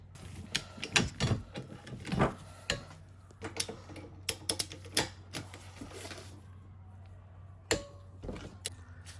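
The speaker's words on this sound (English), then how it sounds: "We're going to want to torque this down at 42 foot-pounds." A torque wrench tightens a rear sway bar bolt on an Acura RSX Type S, giving a series of sharp, irregular ratcheting clicks and metallic taps close by, with small pauses between bursts.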